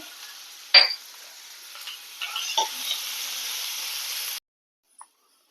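Chopped onion and chana dal being sautéed in a pan, a soft steady sizzle with a sharp utensil clink near the start and a few scraping stirs, fairly quiet and ending abruptly.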